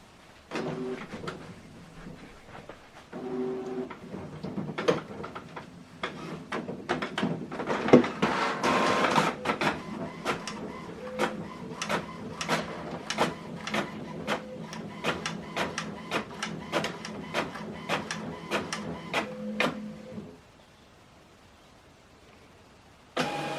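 An HP Envy Inspire printer prints a document, close by, with rapid rhythmic mechanical clicks and a whirring motor that run steadily for most of the time, then stop for a short quiet pause.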